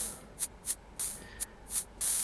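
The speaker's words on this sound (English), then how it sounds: "I get all these different types of noise envelopes or tone envelopes with just one CV." Short bursts of electronic noise from a synthesizer with its envelope modulated by CV, each swelling and fading quickly in a loose rhythm, ending with a longer sustained hiss.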